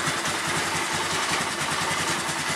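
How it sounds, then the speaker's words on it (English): A 1999 Polaris Sportsman 500 ATV engine idles steadily just after a cold start, a close, loud and even low chugging throb with a regular pulse and no talk over it. "It's a 99 Sportsman Polaris"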